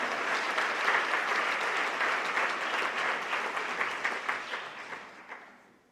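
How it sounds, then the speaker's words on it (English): A large audience applauds for an athletic staff at an awards night, a dense, steady wash of clapping that holds strong for several seconds and then fades away near the end. "just one more great round of applause for an athletic staff"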